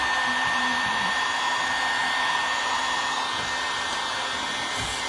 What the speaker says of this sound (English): you're going to want to get the bulk of your veneer off with the heat gun